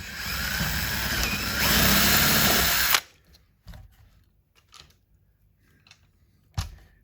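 A power drill bores a 12mm hole in a cheap DIY guitar kit body, a loud steady whine for about three seconds that cuts off abruptly, followed by a few faint knocks and clicks as the work is handled.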